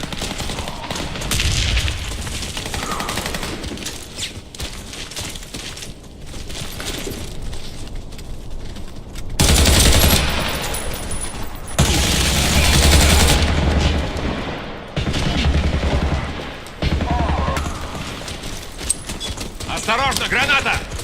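Gunfire and grenade blasts from the shooter game Warface, with an AR-15 rifle, crack in bursts while a voice calls out over the action; a loud, dense explosion dominates the middle, followed by more scattered shots.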